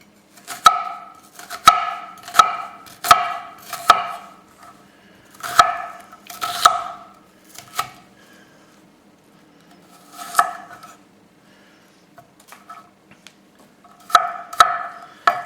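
Onion chopped with a knife on a cutting board for chicken ramen, bursts of crisp rhythmic chops close by, pausing between runs, with no talking.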